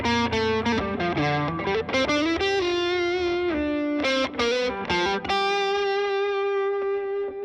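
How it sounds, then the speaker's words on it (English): PRS McCarty 594 electric guitar with a 24.594-inch scale, played through effects and distortion: a run of loud, overdriven single notes and chords, then a long sustained final note, with no talking. "putting the right pieces of the puzzle together so that you can get a guitar to sound like this"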